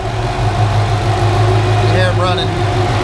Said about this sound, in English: the engine is up to temperature, and we were sitting there talking and the fans kicked on.